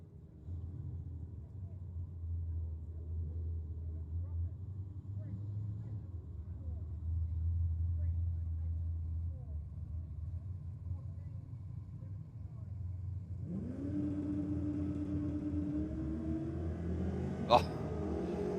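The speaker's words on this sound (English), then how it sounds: "Commodore Ute up against the VK sedan" Holden Commodore ute and VK sedan idling and rumbling at a drag strip under a commentator's voice, then one engine revs sharply with a rising whine near the end and a brief loud crack.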